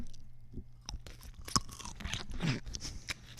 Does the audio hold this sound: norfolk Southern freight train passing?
no